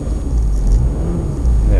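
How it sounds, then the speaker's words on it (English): A Mitsubishi Pajero engine revs up, a loud, steady low rumble rising in pitch, heard close with no talk. "There you can hear the engine revving up nicely."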